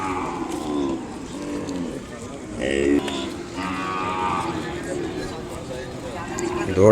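A calf moos at the Kodada cattle market, where Ongole bulls and cows are sold, with a few drawn-out lowing calls over steady market noise while someone talks nearby.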